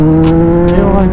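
A BMW car accelerates up a steep slope, its engine droning loud and close with a rising tone, while brief hissy bursts sound over the steady motor.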